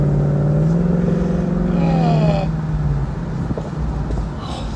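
A 2019 Ford Mustang GT Premium's engine rumbles loud and deep, its pitch rising as it revs up, then settling back to a lower steady drone from inside the moving car.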